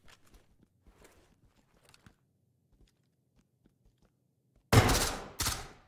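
Two sharp, loud gunshot blasts ring out in a video game, one right after the other, following several seconds of near-silence broken only by faint clicks and small taps.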